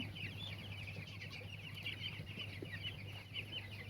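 Young broiler chickens on a poultry farm with liver trouble keep up a dense, continuous chorus of soft clucks and peeps, fairly faint over a steady low mechanical hum.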